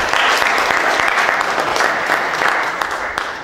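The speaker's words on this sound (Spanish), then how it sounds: "Quiero pedirles un aplauso para el maestro Salvador Padilla" A seminar audience at UNAM's architecture faculty breaks into steady applause, dense and fairly loud throughout, tapering a little at the close.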